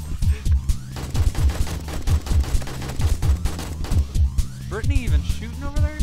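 Rapid gunfire in the survival game 7 Days To Die, a dense run of loud, quick shots fired in close succession, with a voice speaking over it near the end.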